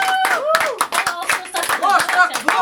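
A small group claps in short bursts of hand slaps during a reality-show gathering, with people talking loudly over the applause.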